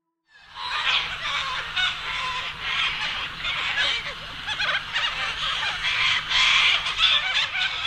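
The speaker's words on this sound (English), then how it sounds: "I wake to the incessant chattering of a caucus of cockatoos." A flock of cockatoos chattering loudly in the morning, a harsh, dense squawking that rises abruptly and carries on without a break in overlapping raucous calls, close and loud.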